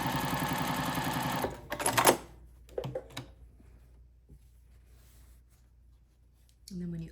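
A home sewing machine stitches a quilt block seam in a short steady whir that stops abruptly, followed by quiet handling clicks and fabric rustle before a brief second burst of stitching.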